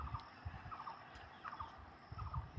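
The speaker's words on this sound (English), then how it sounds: "so beautiful birds here I found on the way" Outdoors, birds call in repeated bursts of turkey-like gobbling, fairly faint and a little distant, with short pauses between the calls.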